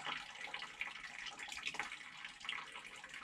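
Water hisses steadily as pressure is bled from an RV toilet's water supply line, a continuous close, bright rush with no talking.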